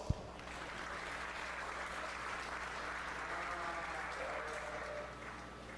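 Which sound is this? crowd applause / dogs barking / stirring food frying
crowd applause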